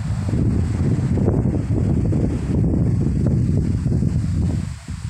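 Strong stormy wind blows on the Camiguin coast during a low pressure area, a loud continuous roar buffeting the microphone with gusty surges and no pause throughout.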